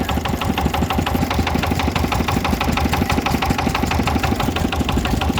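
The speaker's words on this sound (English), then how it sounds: "we have a Lister diesel driving a line shaft, driving bandsaw." A Lister stationary diesel engine drives a line shaft and bandsaw at a Victorian-style show, chugging steadily and loudly with an even, rapid knocking beat and no talk.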